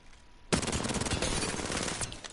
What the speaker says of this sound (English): So, this gun, you know, it has some time to empty the mag.